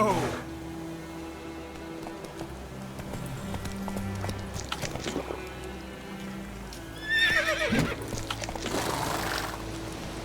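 A horse in The Witcher 3 video game whinnying and clip-clopping at a gallop, hoofbeats running under game sounds with a loud neigh near the end; a voice speaks over it.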